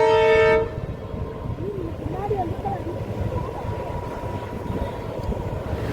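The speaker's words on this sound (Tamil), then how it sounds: "ஆனால் நம்ம வாய்ப்பு பார்த்தீங்களா, ஒரு ரயில் வருது அந்த நேரத்தில்." A train crossing a bridge near Ariyaman beach, with a loud horn blast at the start and then a steady, continuous rumble of the train rolling over the bridge, heard from nearby outdoors.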